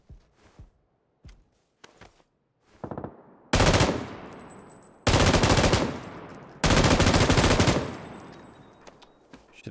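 An M249 light machine gun fires in the video game PUBG on Xbox One: a few short, isolated pops, then three long, loud sustained bursts of rapid automatic fire up close, each separated by a brief pause.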